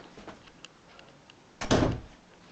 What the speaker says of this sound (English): Better shut that door.